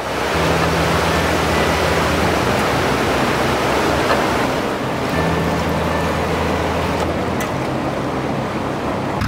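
Water rushes steadily through an opened side pond paddle at a canal lock on a narrowboating trip, a loud, continuous broadband roar that holds for the whole stretch.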